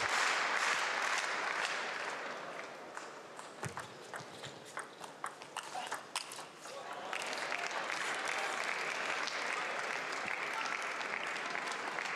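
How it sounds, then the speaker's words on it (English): Audience applause at a table tennis match at the 2016 German Open, a steady wash of clapping that dips briefly in the middle before swelling again, with loose individual claps audible throughout. "And people want to applaud good table tennis out here"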